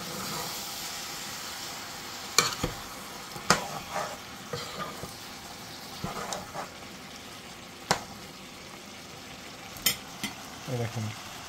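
Goat meat curry simmers and fries in a pot, a low background sizzle punctuated by occasional sharp scrapes and knocks of a spoon being stirred through it, with no talking.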